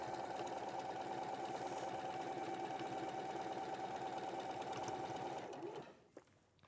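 A sewing machine stitches a wrap jacket in a fast, even run of rapid needle strokes. The buzzing whir holds steady for several seconds, then stops abruptly and leaves a few soft handling clicks.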